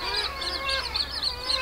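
A noisy seabird colony calls continuously, with dense overlapping raucous squawks and cackles at close range and no pauses.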